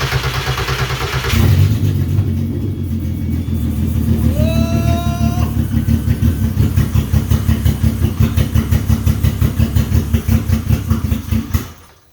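A VW Jetta Mk1 fitted with a 3.6L FSI engine, started for the first time with no exhaust system, catches and settles into a loud, throbbing idle that pulses unevenly before cutting off.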